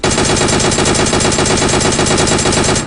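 Rapid automatic gunfire from the PUBG battle royale video game, a loud continuous burst of shots rattling steadily for about three seconds with no talk over it.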